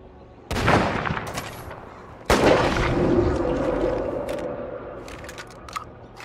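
Gunfire in the zombie survival game State of Decay 2, two loud close gunshots a couple of seconds apart, each with a long rumbling tail, followed by faint clicks.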